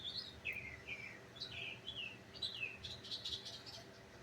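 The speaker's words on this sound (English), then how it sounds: "Birds are singing." Small birds singing outdoors after rain, a series of bright high chirps and short whistled phrases repeating every half second or so, fairly faint over a quiet background with no talking.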